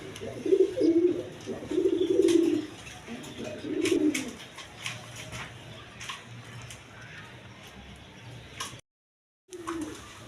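Pigeons at a Bangladeshi pigeon farm, including a pair of blackless shirazi birds, give three low throaty coos in the first few seconds, then quieter rustling and faint chirps follow with a short gap of silence near the end.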